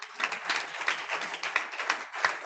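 Congregation at a Friday prayer meeting clapping in unison, a steady rhythmic beat of claps, moderately loud and slightly reverberant, roughly three per second.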